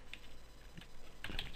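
Quiet typing on a computer keyboard during a Windows 7 installation. Soft, irregular key clicks over a steady background hiss, with a busier flurry of keystrokes toward the end.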